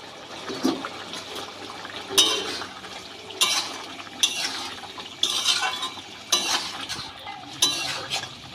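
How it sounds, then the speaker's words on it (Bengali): Fried chana dal fritters being stirred into boiled potatoes and tomatoes in a pot, giving repeated scraping, sloshing strokes of a spoon at a steady rhythm, close and moderately loud, with no talking. "বড়াগুলো দিয়ে আলুর সাথে ভালো করে নেড়ে নেব"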